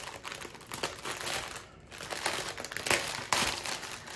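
Plastic bags of diamond art drills crinkle and rustle up close in irregular bursts, with a short quiet gap in the middle and no speech.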